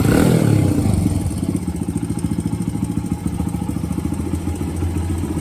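A 2001 Honda XR100 motorcycle engine fires on a kick start with no choke, then settles into a loud, close, steady rapid idle with a slight mechanical clatter.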